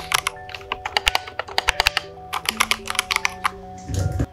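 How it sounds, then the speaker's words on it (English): Rapid, uneven typing on a One Piece themed custom keyboard with lubed pink jelly tactile switches and foam dampening, a close, soft stream of muted key clacks with a deeper thock near the end, no talk. "You can really hear the foam dampening the sound of the keys and how soft the keys are to press"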